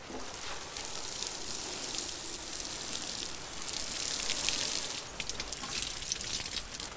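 Water splashing onto garden plants in a self-sufficiency vegetable patch, a continuous soft hissing patter like light rain that swells briefly and then eases, close by with no talking.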